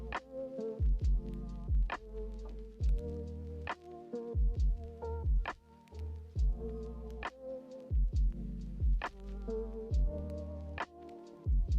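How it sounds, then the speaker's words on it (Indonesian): An electric mixer kneads potato milk donut dough with a rhythmic, repeating thump and whir, regular pulses about every second over a steady low motor hum. "Kemudian mixer lagi hingga kalis elastis, sekitar 15 menit."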